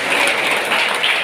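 An audience breaks into applause, a dense, even wash of clapping hands sustained for about a second, loud and close.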